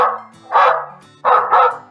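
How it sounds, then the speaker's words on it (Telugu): A recorded dog's barking blares from a loudspeaker set up in a crop field, three loud, harsh, slightly distorted barks in a quick irregular rhythm, alone and close. "గీ మైక్ అయితే అచ్చం కుక్క అరిచినట్టే అరుస్తుంది రో"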